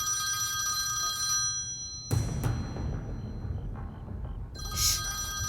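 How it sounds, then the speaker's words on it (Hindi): Telephone bell ringing in repeated bursts with a bright metallic trill, pausing in between and then ringing again, heard indoors at moderate distance with no one speaking. "जब फोन बजता है तो उठाया जाता है,"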